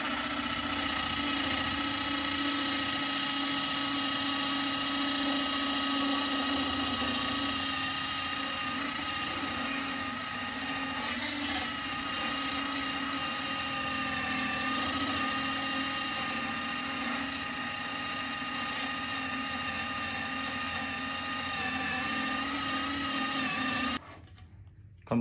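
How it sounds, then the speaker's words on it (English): A steady, droning motor whir runs on for a long stretch, even and mechanical, a drum part spinning in a power drill, then cuts off at the end. "just pop it into the drill."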